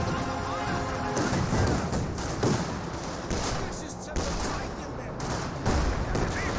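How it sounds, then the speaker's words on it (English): Katyusha rocket barrage in a Company of Heroes 2 battle: a dense, continuous wall of loud rumbling blasts and crackling fire with no pauses, mixed with battlefield gunfire and a voice faintly underneath. "Sounds like a Katyusha barrage ring on somewhere."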